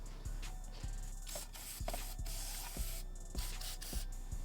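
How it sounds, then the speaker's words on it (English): Brake cleaner hisses in a steady spray onto spilled oil on a BMW B58 engine, with rhythmic pumping pulses underneath roughly every half second, close and continuous without speech. "Little spritz of brake cleaner, clean off the oil I spilled."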